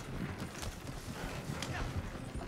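Horse hooves pound in a rhythmic gallop in the Western video game Red Dead Online, a low, continuous drumming mixed with game ambience and faint background sounds.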